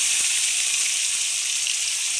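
Pomfret fish fries in hot oil in a kadai, giving a steady, loud, broadband sizzle that holds evenly throughout with no talking.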